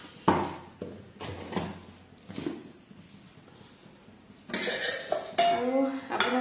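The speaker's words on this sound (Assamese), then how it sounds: "এইফালে এখন কেৰাহী পাতি লৈছোঁ" A metal wok (kerahi) clanks onto a stovetop, a few sharp knocks and rattles of cookware up close, followed by quieter shuffling kitchen noise and a brief run of louder clatter.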